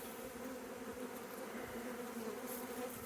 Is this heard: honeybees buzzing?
yes